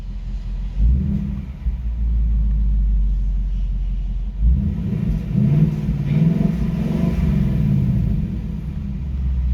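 A 2018 Mustang GT V8 with active exhaust set to sport mode idles with a deep, loud rumble, then a rev raises it to a rougher, throatier burble that holds steady, close by with no talking.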